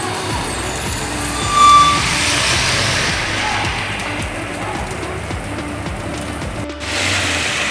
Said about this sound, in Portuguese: Começou uma deliciosa chuva.